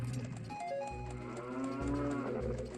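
A cow in the video game Ocarina of Time lets out a deep, drawn-out moo followed by shorter lowing calls, clear and close over a faint game background, with no talk.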